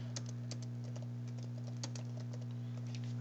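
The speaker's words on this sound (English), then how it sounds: "Wow, what am I typing?" Someone types on a computer keyboard while editing a highlight video, quick irregular clicks at close range over a steady low hum, fairly faint and without talk.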